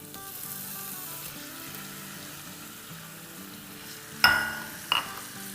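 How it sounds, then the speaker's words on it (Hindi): Grated onions fry in hot oil over a medium-high flame for dhaba-style chicken masala, a soft even hiss that breaks near the end into two sharp bursts of louder crackling sizzle, nobody speaking. "प्याज़ों के साथ इतना फ्राई करेंगे कि प्याज जो है वो सॉफ्ट हो जाए, ब्राउन नहीं हो"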